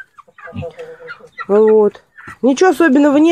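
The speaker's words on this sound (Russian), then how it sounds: "Эти цыплята вылупились 3 декабря." Mini meat-breed chicks in a pen shared with hens and pigs cluck and chirp loudly and close, a few sustained calls standing out, while someone talks between and over them.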